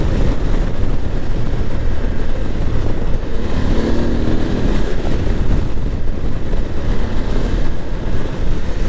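A new BMW F850GS motorcycle being ridden, its engine and rushing wind merging into a loud, steady roar that holds without a break for the whole stretch.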